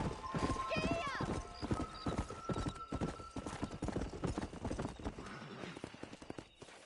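Horse hooves clip-clopping at a fast gallop through Red Dead Redemption, steady rapid beats with a neigh early on, loud and close under a voice and game music.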